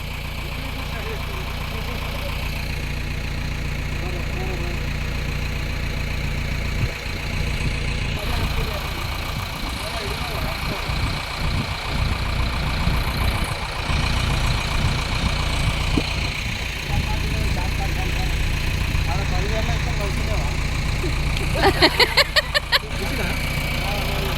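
A bore well motor runs during house construction work, giving a steady mechanical hum throughout with some clattering and knocking noises, while people talk nearby.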